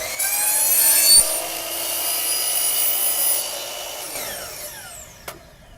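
A double bevel sliding compound miter saw cuts a wooden board. The blade whines up loud, bites through the wood, then spins down and fades, with a short knock near the end.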